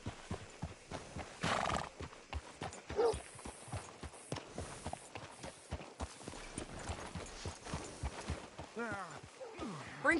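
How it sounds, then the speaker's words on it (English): Horse in Red Dead Redemption 2: steady clip-clop hoofbeats with neighs and whinnies, close, with someone talking over them. "Hitch your horse up here."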